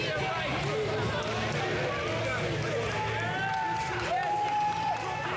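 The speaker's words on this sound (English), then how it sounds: "you can hear from that crowd reaction," A wrestling arena crowd roars and cheers steadily for Cody Knight, a dense wash of noise from many voices with a commentator talking over it throughout.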